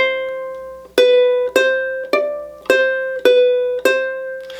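Ukulele picks out the intro melody of a song as six evenly spaced plucked notes, each ringing and decaying, clear and close with no talking.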